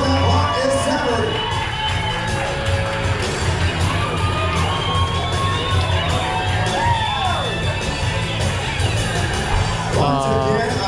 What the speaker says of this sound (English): So keep on cheering on.